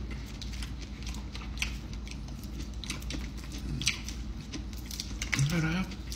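Crunchy bites into crispy Taiwanese fried chicken, a few sharp crackles and chewing sounds up close, with a short voiced murmur near the end.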